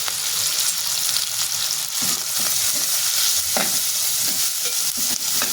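Ginger, garlic, capsicum, carrot and corn being sautéed in a pan, a continuous close sizzle with occasional stirring scrapes throughout.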